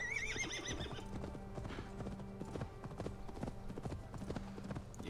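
A horse gallops in a video game, its steady clip-clop hoofbeats loud and close under game ambience, with a brief whinny at the start.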